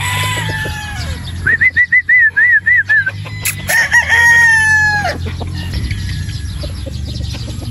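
A sweater gamefowl broodstag rooster crows loudly and close, one long rising-and-falling crow followed by a shorter second one, with some clucking and wing flaps around it.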